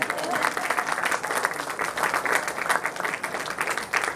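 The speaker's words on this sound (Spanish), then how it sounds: "Un aplauso al Pastor Francisco." Church congregation applauding a pastor during a Sunday service, steady mid-level clapping from a crowd that continues throughout with some voices mixed in.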